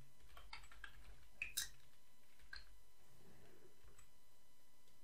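Typing code on a computer keyboard comes through as a few sparse, soft key taps spread over a few seconds, faint and close in an otherwise quiet room.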